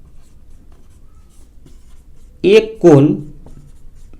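A pen scratches softly as a maths lesson on trigonometry is written out by hand, faint and continuous, with a brief spoken word over it.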